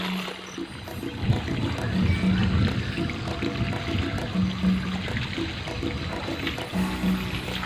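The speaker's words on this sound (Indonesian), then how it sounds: "Ini air yang ngalir, ini air pegunungan." Mountain water flowing steadily near a house, a continuous close rushing and trickling sound with no speech.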